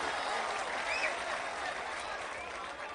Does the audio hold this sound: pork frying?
no